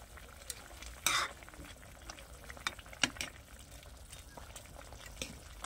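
Fish pieces go into a curry in a pan with a bright splash and sizzle, followed by soft stirring and clinks of a utensil against the pan over a quiet simmer.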